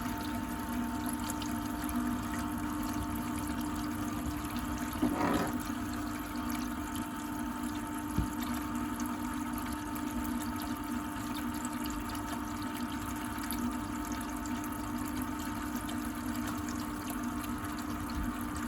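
Water steadily gushes out of the sea water cooling circuit of a Volvo Penta TAMD41-P marine diesel engine during a chemical clean. It is a continuous, even flow with a pump-like hum underneath and no talk.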